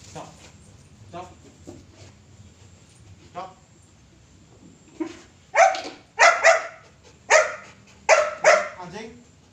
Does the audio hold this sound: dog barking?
yes